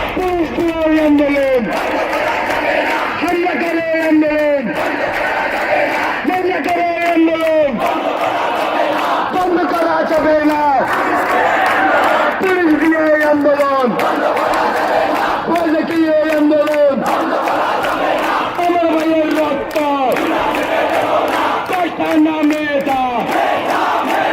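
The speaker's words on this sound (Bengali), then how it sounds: "রাজধানীর শাহবাগ সহ সারা দেশে বেজে ওঠে নতুন স্লোগান" A large crowd of student protesters at Shahbag in Dhaka chants slogans in a steady call-and-response rhythm, loud and continuous, the massed voices rising and falling in repeated phrases.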